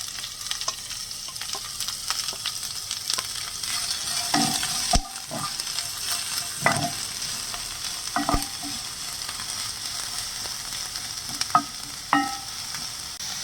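Two large, finely chopped onions fry with ginger and garlic in a pan, giving a steady low sizzle broken by several sharp spoon-against-pan scrapes and taps as they are stirred, with no talking.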